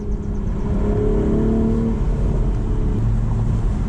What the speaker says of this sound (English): we're gonna do some highway accelerations